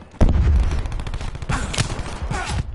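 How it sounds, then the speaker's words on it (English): Gunfire from the shooter game Call of Duty Black Ops 4 erupts in a loud, close burst of rapid shots and booms that stays dense for nearly three seconds, with no talk over it. "Oh, Teammate, stop firing."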